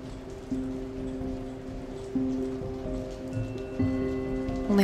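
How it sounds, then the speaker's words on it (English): Rain pouring outside a dorm window in the Minecraft video game, a steady hiss of falling drops with light ticking, overlaid by a sustained musical tone that changes note every second or so. "Rain poured down outside my old dorm window"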